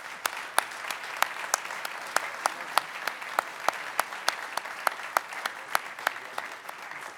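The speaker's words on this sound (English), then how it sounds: "can we just have a round of applause for our two Dutch hosts?" Audience applause for the hosts at the close of an aviation conference, with sharp, evenly spaced claps standing out above a softer bed of clapping that carries on steadily throughout.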